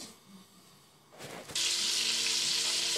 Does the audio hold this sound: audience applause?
no